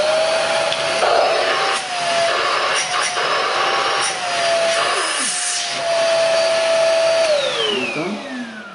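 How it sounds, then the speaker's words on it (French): Ecovacs Deebot D76 detachable 500-watt handheld vacuum cleaner running close by, a loud steady whirring whine whose pitch wavers and drops as it is moved about, with no talking. "il suffit de le brancher et on a un aspirateur 500 watts"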